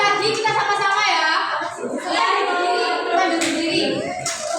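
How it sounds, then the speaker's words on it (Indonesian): A group of children does a rhythmic clapping chant in a classroom, shouting words in time with sharp bursts of claps near the end, loud and close. "Tepuk semangat velocity"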